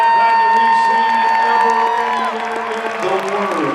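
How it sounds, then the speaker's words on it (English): Rodeo grandstand crowd cheering and applauding after bareback riding, a broad, steady roar of claps and whoops with a pulsing tone running through it. "How about a huge round of applause?"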